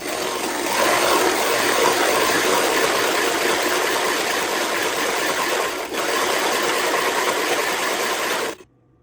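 Silicon carbide sharpening stone being lapped flat with SiC powder: a steady, loud gritty rasping scrub runs for about eight seconds with one brief dip, then stops abruptly, with no voices.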